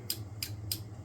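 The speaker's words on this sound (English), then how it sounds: "I'm hearing the relays click now." Relays inside a Yaesu FT-101ZD Mk3 transceiver under repair click three times at an even pace, sharp and close, over a low steady hum.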